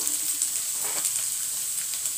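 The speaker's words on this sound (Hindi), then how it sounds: "अब इसको अच्छे से चला करके इसमें मसाले डाल दे रही हूँ" Radish bhujia frying in a pan gives a steady, bright hiss of sizzling oil, constant and fairly close, with only faint movement from stirring.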